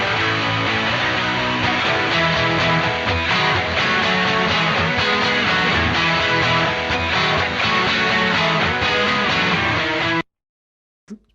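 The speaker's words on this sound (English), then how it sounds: "All of the guitar parts at that point sound like this." Several layered electric guitar parts play together in a full, sustained band-style passage, steady and loud for about ten seconds before cutting to silence, with a brief faint sound at the very end.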